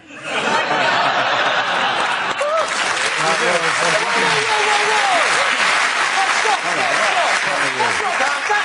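Studio audience at a British comedy panel show breaks into loud, sustained applause mixed with scattered laughter and whoops, a dense crowd roar filling the room with voices chattering over it.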